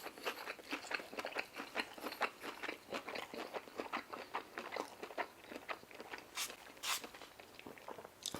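Deep fried food, such as fried dumplings and General Tso chicken, bitten and chewed close up, with a quick run of crisp crunches and wet chews repeating throughout and no talking.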